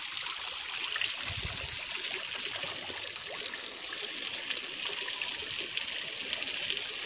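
Water gushes steadily from a new pipe as a buffalo is bathed in a village, a continuous close hissing splash throughout with a faint low thud near the start.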